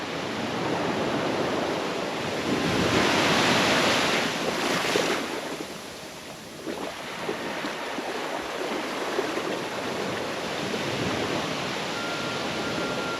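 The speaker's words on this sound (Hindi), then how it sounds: "लहरें बड़ी बड़ी आ रही हैं," Big ocean waves surge and wash ashore at Kala Pathar beach on Havelock Island, Andaman, a steady broad roar with a louder swell early on and wind buffeting the microphone throughout.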